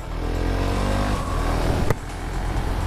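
Husqvarna Vitpilen 701 single-cylinder motorcycle with an Akrapovic exhaust end can drones steadily on the road, engine note rising then easing off under constant wind noise, with a brief sharp knock near the end.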